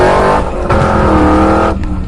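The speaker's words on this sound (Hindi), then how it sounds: "और फिर गुल्ली गाड़ी को पूरी फुल स्पीड में भगाने लगता है" A car driven flat out at full speed, its loud engine roaring steadily close by for a couple of seconds with no talk.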